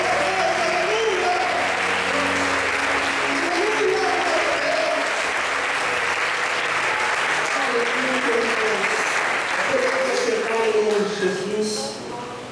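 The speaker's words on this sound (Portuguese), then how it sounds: "aplauda o Senhor e dê glória" Church congregation applauding steadily throughout, dense clapping with voices and worship talk audible over it, fading slightly at the end.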